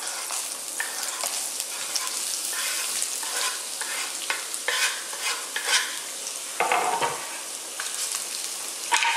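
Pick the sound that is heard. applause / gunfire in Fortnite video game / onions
onions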